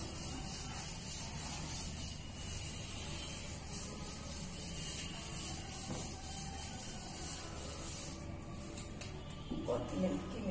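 Steady dry rubbing of a board being wiped clean in a classroom, a continuous scuffing hiss lasting several seconds at close range, ending with a few brief knocks.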